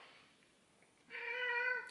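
A cat gives a single clear, drawn-out meow in the second half, loud and close, after a quiet stretch of faint room noise.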